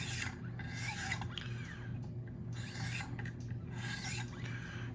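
Alternating strokes on a Wicked Edge sharpener grinding an S90V steel Spyderco Shaman knife blade, with a steady rhythmic rasp of stone on steel repeating every second or so, close and clear.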